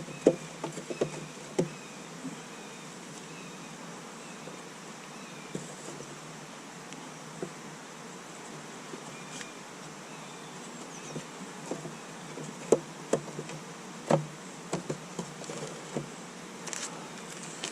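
Honeybees buzz softly around brood frames in an open hive, a steady low hum with scattered light knocks and taps of frames and equipment throughout.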